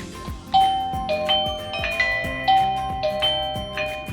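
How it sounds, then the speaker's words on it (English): Pressing a Eufy 2K video doorbell sets off its indoor chime: a bright, repeating multi-tone melody of clear ringing notes with steady rhythmic strikes, loud and close, with no voices over it. "So let's press the doorbell."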